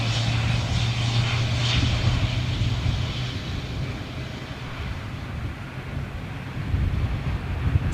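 A British Airways jet starts engine number two with a low, rumbling engine hum and a steady droning tone beneath broad airy noise. The sound fades slightly and then swells again near the end, with no talking.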